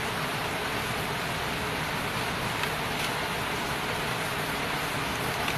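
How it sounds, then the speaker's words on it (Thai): Steady rain falls around a hot-noodle stall, a dense, constant hiss that fills the whole stretch without breaks and with no voices over it. "ชุ่มฉ่ำเย็นสบายฝนตกค่ะทุกท่าน กินเสียงฝนนะคะ"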